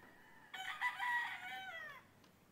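A golden boy sweater gamefowl rooster crows once, a clear close cock-a-doodle-doo lasting about a second and a half against a quiet farm background.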